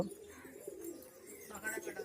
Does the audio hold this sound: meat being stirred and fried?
no